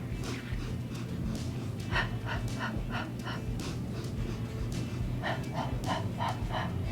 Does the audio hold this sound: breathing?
yes